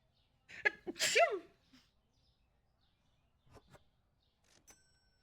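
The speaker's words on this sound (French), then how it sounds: "Je vais éternuer." A single close, sharp sneeze bursts out, followed by a short pause and a few faint rustles and small sounds.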